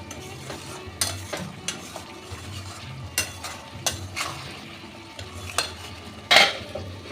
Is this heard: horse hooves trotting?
no